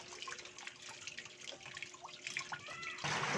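Water running into the drum of an automatic washing machine, a soft continuous splashing flow with a faint hum, growing to a louder rush near the end.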